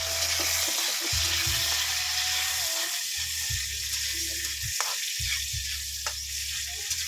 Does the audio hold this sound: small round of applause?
no